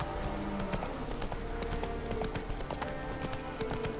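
Geralt's horse Roach clopping along in The Witcher 3: Wild Hunt Next-Gen, a steady run of hoofbeats over a busy game soundscape of music and ambience, with no talking.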